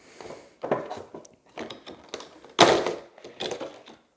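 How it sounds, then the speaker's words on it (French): Nintendo Switch Pro controller box being opened up close: a series of dry cardboard and plastic scrapes, rustles and clicks in irregular bursts, with one louder crinkling burst near the middle, no voices. "passons à l'ouverture de la boîte"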